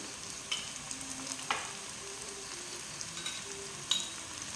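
Coriander powder and spices sizzle in hot oil with onion and tomato for chicken kurma, a quiet continuous fry broken by a few sharp scrapes and taps of a spoon stirring the pan.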